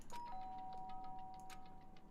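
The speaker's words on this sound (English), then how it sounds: "Byakuya stood in front of her door, not making a sound, and pressed the doorbell." A doorbell pressed in the video game Danganronpa rings out as a chime of two clear sustained tones, the second held longer, over a steady background hum.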